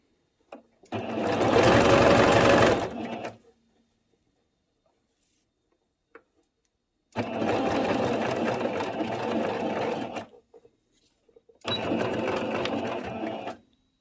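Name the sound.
sewing machine stitching an elastic skirt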